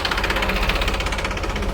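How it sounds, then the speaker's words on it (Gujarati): A tractor-driven groundnut (peanut) harvesting machine running in a farm field, a loud, steady engine drone with a rapid knocking pulse and heavy mechanical vibration, close and continuous. "ટ્રેક્ટર દ્વારા કઢાતી મગફળીનું મશીન છે"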